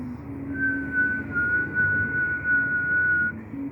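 A single soft, steady whistled tone, blown as a practice for the kaval flute, is held for a few seconds over a low background hum.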